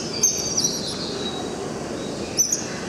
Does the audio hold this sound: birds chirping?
yes